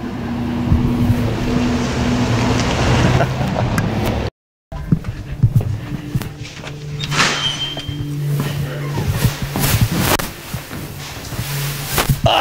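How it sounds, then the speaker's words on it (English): A car passes nearby with a steady engine hum and road noise, then a brief gap before traffic and engine sounds resume, fluctuating with some sharp clatters outdoors. "Wait till the car goes by."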